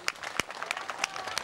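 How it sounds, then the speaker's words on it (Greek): Scattered, fairly faint applause from a small audience for children who performed a folk dance at a Kechrokampos cultural association commemoration event, with sharp individual claps standing out over a soft crowd bed. "θερμό σας χειροκρότημα για τα παιδιά που χόρεψαν σέρα για όλους εμάς"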